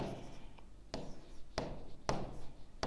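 Writing strokes on a board during a group theory maths lecture, a few sharp scratching taps spaced about half a second apart, close and clear with no talking.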